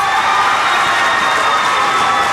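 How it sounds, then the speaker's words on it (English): Parents, fans and students cheering at a girls' South Jersey basketball championship for the Lower Cape May Lady Tigers, a loud, steady crowd roar with shouting and applause filling the gym throughout. "All the parents, fans, students standing here, cheering"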